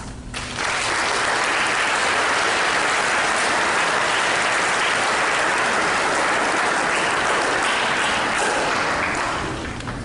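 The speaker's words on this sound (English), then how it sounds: "You deserve a round of applause." An audience at a school National Honor Society induction ceremony breaks into loud, sustained applause that starts abruptly, rolls on evenly for about ten seconds, then begins to thin at the end.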